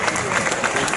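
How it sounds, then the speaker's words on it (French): Audience applause at a live medieval-themed knights-versus-barbarians show in Angers, a dense, steady wash of clapping filling the whole moment with a crowd murmuring beneath it. "Égalité parfaite, on les applaudit bien fort."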